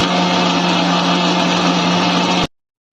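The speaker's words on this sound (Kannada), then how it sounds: "ಇವಾಗ ಮಿಕ್ಸಿ ಜಾರ್ಗೆ ಹಾಕ್ಕೊಂಡು ಇದನ್ನು ನೀರು ಹಾಕ್ಕೊಂಡು ರುಬ್ಕೊಳ್ಳೋಣ" A mixer grinder blends Indian gooseberries (amla) with water and a pinch of salt, giving a loud, steady motor whir for a couple of seconds before it cuts off abruptly into silence.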